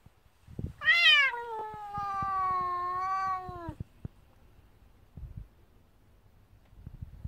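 A cat gives one long, drawn-out meow that rises sharply and then holds steady for about three seconds, close and clear. Faint thumps and rustling follow in an otherwise quiet outdoor setting.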